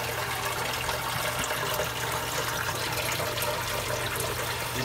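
Water flowing steadily through a reef aquarium sump, a constant close rush and trickle with no pauses, with no speech.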